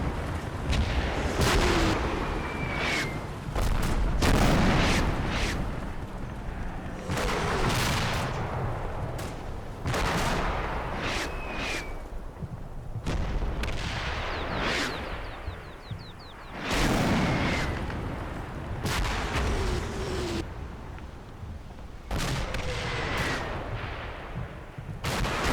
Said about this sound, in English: Yeah, that was not the best mortar strike at all.